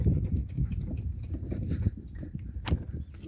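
Donkey hooves clip-clop along a village path among green fields, a near and uneven run of soft thuds with no talk.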